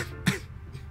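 A single short cough or throat-clear, close and fairly loud, followed by faint breathy noise.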